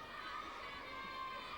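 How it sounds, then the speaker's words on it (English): Faint, distant crowd cheering and chatter fill an arena during a women's gymnastics floor exercise at the 1993 World Championships, a steady murmur of support with no distinct peaks. "Plenty of cheers from the crowd there"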